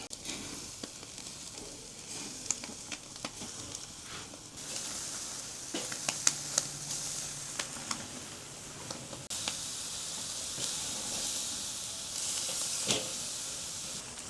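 Half chickens sizzling skin side down on a grill, a steady frying hiss throughout with scattered pops and ticks, close and moderately loud, no voices.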